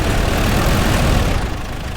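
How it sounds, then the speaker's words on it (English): A mining machine engine in a VR game idles with a loud, steady low rumble that thins slightly near the end as it winds down. "Now turn off the machine by grabbing the key from the ignition."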